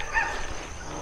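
A dog barks at night in a dark spot thought to be haunted, a short yelping burst early on, then fading into hissy outdoor background.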